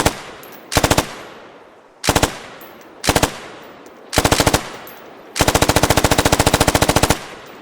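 Rifle fire from the video game Squad, loud and close, in bursts of rapid automatic shots separated by short pauses, ending in one long sustained burst.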